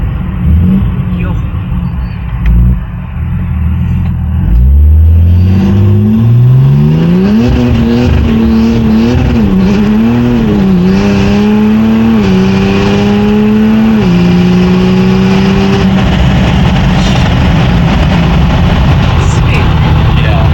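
A single-turbo BMW 330d diesel accelerates hard through the gears, its engine note climbing and dropping at each shift, loud and close from inside the car.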